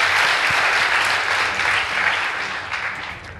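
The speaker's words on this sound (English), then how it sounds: "Please give them a round of applause." An audience applauds loudly at a high school competition, with dense clapping from the first moment that slowly thins and fades toward the end.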